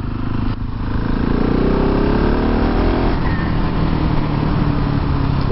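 A Husqvarna 701 Supermoto motorcycle pulls hard on a test ride, its engine revving up loud and steady with wind roar, and no talk over the sustained acceleration.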